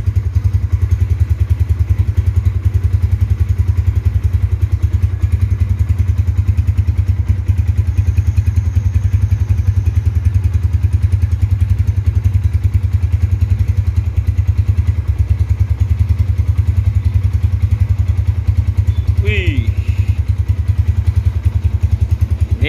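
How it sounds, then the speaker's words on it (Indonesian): A 2007 motorcycle engine runs loud and close for over twenty seconds, a steady rough drone with a brief higher rise near the end and no talk. "Ini Mas Pur, motornya nih bring banget."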